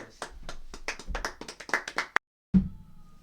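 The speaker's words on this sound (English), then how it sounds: "Round of applause for Melvin." A few people clap in quick, uneven rhythm on a podcast, close and light. The clapping stops abruptly, a short silence follows, then a louder thump.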